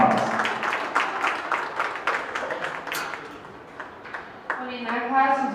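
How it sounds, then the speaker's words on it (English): Applause from the audience at a county fair open class beef show, a round of scattered claps that thins out, with an announcer speaking over and after it. "So let's give them all a nice big round of applause."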